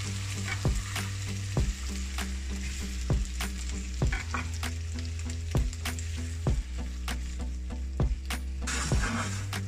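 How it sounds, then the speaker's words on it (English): Tomatoes and garlic frying in hot oil over medium-high heat, a loud continuous sizzle close by, broken by regular sharp knocks and scrapes of a spoon stirring the pan, with no voices. "I'm going to add in all of those tomatoes."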